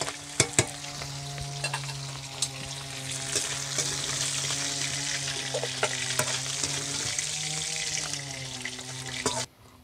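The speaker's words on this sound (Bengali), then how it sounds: "মাথাগুলোকে ভালো করে নেড়ে টেড়ে ভালো করে ভেজে নেব।" Fish heads frying in oil while being stirred, a continuous close sizzle with scraping spatula strokes and several sharp knocks against the pan before it stops abruptly.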